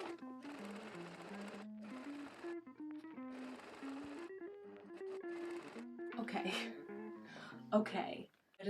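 A sewing machine top stitching a 70s punk ballgown runs in short whirring bursts with pauses between them, while someone talks over it and then gasps near the end.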